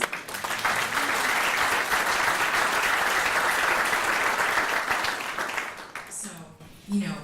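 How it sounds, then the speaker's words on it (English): An audience claps in a full, steady burst that gradually fades. Near the end, a voice speaks over the last few claps. "Can we have a round of applause?"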